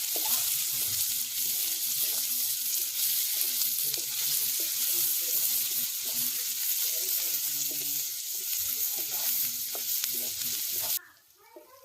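Onion and garlic frying in a pan over a traditional wood-fired stove for a wild fig vegetable dish, with a steady close sizzle and repeated scraping stirs, the sound cutting off abruptly near the end.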